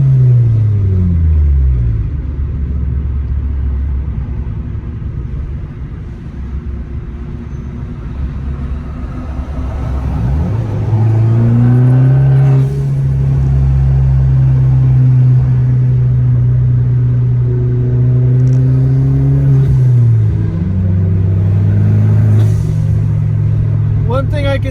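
Fiat 500 car driving in traffic, its engine rumbling and rising in pitch through gear changes, steady and close, with people talking over it.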